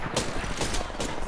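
Rapid gunfire in the Apex Legends video game: dense bursts of automatic shots crackling loudly and close across a short stretch, with no clear voice on top.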